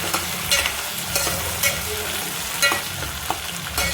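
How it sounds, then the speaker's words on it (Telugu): Potatoes fry in a pan with a steady close sizzle, broken by repeated scraping stirs of a spatula, with no talking. "ఆలుగడ్డ ఫ్రై అవుతుంది."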